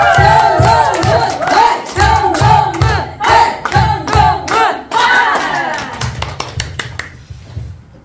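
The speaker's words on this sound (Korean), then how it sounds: "박수와 함성으로 정동훈 교수님 무대를 모시겠습니다" A lecture audience in Korea greets a professor taking the stage with loud cheering, shouts and clapping over a pounding rhythmic beat, the noisy crowd surging for several seconds before thinning out toward the end.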